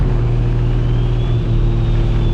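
A BMW E92 M3 engine pulls hard under acceleration, a steady loud rumbling drone with a rising tone, heard up close from inside the car without talk.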